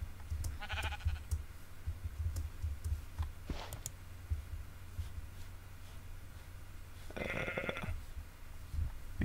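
A Minecraft sheep bleats twice, a short nasal bleat early and a stronger one near the end, heard faintly over a steady low rumble with occasional clicks.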